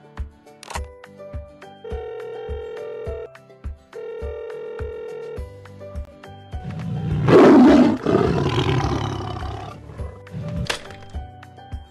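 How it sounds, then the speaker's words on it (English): A cartoon tiger lets out a loud, growling roar in a children's alphabet learning app, preceded by bright musical chimes and beeps and followed by a short jingle. "Tiger!"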